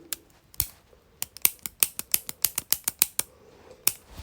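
A small plastic button clicked repeatedly up close, sharp crisp clicks in an uneven quick series, mostly alone in a quiet room.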